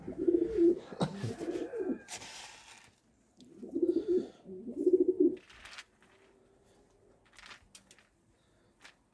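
Pigeons kept on a rooftop terrace coo in three low, rounded phrases near the start and middle, fairly close, with faint outdoor background and a few soft clicks between them.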